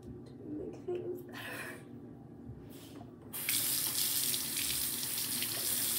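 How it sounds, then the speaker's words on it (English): Water runs from a bathroom tap while a makeup brush is rinsed, a steady bright hiss that swells louder partway through after quieter splashy moments, with faint background sounds. "I'm gonna rinse off my brush."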